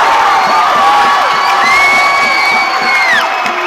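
Loud, continuous crowd cheering at a 2016 high school volleyball regional final between the TCA Conquerors and P.K. Yonge, with shouts, whoops and whistle-like cries rising over the roar.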